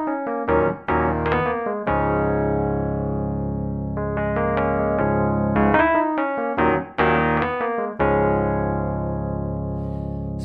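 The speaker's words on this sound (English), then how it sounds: "I'm just playing it with a little choppier blues rhythm in these hammer-ons here." On an electric piano, choppy blues chords repeat in short clipped bursts decorated with quick right-hand hammer-ons, alternating with held ringing chords, played close and solo without talking.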